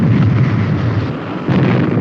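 The starboard engine of Supercar ignites during a test firing, a loud continuous roaring blast that holds steady with a brief dip midway.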